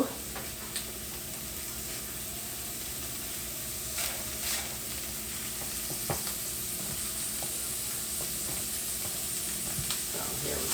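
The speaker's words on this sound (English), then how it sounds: "I'm going to kind of saute it a little bit and see if I can zhuzh it up and brown it a little bit more" Already-browned ground beef, 450 grams cooked earlier in a crock pot, sautés in a pan with a continuous sizzle and hiss, punctuated by occasional sharp utensil ticks and scrapes, with no speech over it.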